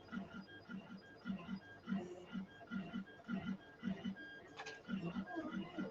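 A temperamental 3D printer running, with stepper motors giving a rhythmic, pulsing hum and faint whining tones in quick repeated bursts, fairly quiet and close.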